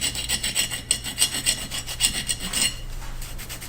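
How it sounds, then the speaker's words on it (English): A coin scrapes rhythmically back and forth along an old, discolored copper water line pipe, giving close, gritty rasping strokes that stop near the end. "If you scrape it off, you could just use a coin."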